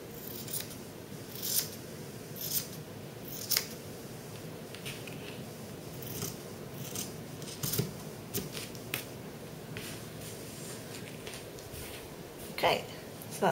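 Scissors cutting fabric pattern pieces for a wrap front top, a series of irregular crisp snips and short cutting strokes, close and fairly quiet, with a person talking throughout.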